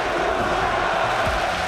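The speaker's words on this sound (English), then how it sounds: "And here, once again, there is the crowd behind them." A dense esports arena crowd at the 2015 League of Legends Champions final between SKT and KOO Tigers roars and cheers for KOO Tigers in a steady, loud wall of noise.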